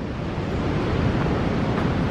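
Steady, dense rushing roar of a waterfall in Cascade Corner, Yellowstone, heard close and unbroken with no voices.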